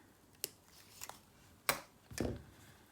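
Wire cutters snipping wire for a beaded project, a few sharp, faint clicks and snips spaced apart in a quiet room, with no talk.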